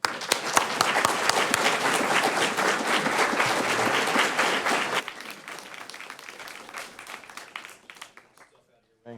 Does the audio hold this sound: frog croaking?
no